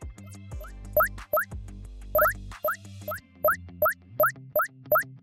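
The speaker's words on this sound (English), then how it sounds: "So here we have a bunch of little pickups" Short item-pickup chimes from a GDevelop video game sound one after another at the same pitch, about ten bright boing-like blips spaced unevenly, with quiet game music underneath.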